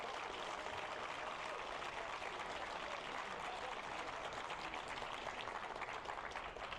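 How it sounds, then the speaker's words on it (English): A crowd at a Grand Archive trading card game tournament in Seattle claps in a steady, dense round of applause for volunteer staff, a continuous wash of many hands from start to finish. "a big round of applause for all of the volunteer staff"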